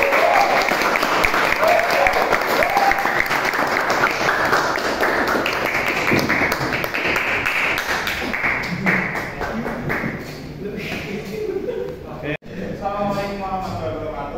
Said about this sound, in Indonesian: tepuk tangan ya buat kita semua